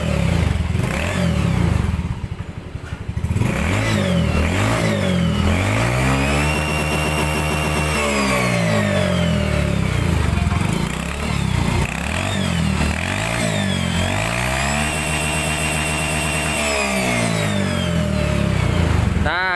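A Honda Genio scooter upgraded to a 53mm piston starts and runs nearby, its small engine idling with a buzzing rattle and repeatedly revving up and down in loud, rising and falling sweeps.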